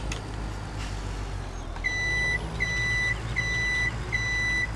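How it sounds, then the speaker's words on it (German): Reversing beeps sound as a farm vehicle backs up slowly in Landwirtschafts-Simulator 17, a steady series of four clear, evenly spaced tones over a continuous low engine drone. "hier fahre ich jetzt vorsichtig rückwärts ran"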